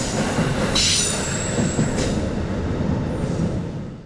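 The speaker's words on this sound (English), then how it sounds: "Amtrak Regional Train 67 with marker lights on between the cars cruises by westbound on" Amtrak Regional Train 67, marker lights on between the cars, cruises westbound on Track 2 with a loud, steady rolling rumble and a high wheel squeal that rises and then fades near the end.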